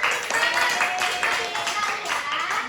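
Students in a microteaching classroom clap together, a quick steady patter of many hands with voices chattering underneath, fairly close.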